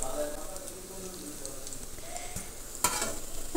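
Fish fingers frying in hot oil give a steady, soft sizzle throughout, with a brief louder burst of crackling near the end as pieces are moved.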